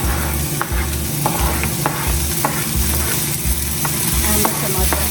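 Mixed capsicum sizzles steadily in hot corn oil while a utensil stirs and scrapes the pan in a regular repeating rhythm, close and fairly loud.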